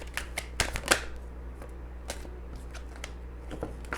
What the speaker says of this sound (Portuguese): Vou baralhar primeiro